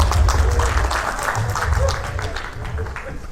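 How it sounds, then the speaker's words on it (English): A seated seminar audience applauds a business speaker, a dense, steady wash of clapping that holds at moderate loudness throughout, with some voices mixed in beneath it. "Give yourself a bit of applause, okay?"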